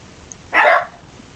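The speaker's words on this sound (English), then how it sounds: "No, that's the dogs." A single short dog bark sounds from indoors at moderate distance, a sharp yap against quiet room noise.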